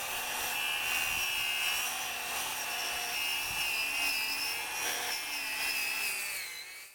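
Cordless grinder working against a rubber tire, a sustained high, whining grind with slight wavering pitch, close and loud throughout before tailing off at the end, no talking.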